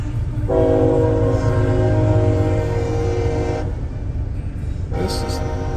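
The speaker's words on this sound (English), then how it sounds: "CSX locomotives" CSX freight locomotives hauling a grain train rumble past in Blanchester, Ohio, with a loud horn blast sustained for several seconds, then a second horn sounds near the end over constant rolling rail noise.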